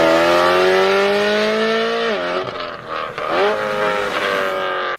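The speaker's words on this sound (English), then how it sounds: "All are powered by a S65 BMW V8 motor that's high revving" A loud, high-revving BMW S65 V8 engine screams close by, pitch sweeping up and down as it shifts and blips the throttle.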